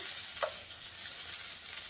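Steady crackling sizzle of Korean minari greens fritters frying in hot oil, close and continuous, with a brief clink of a utensil, no voices.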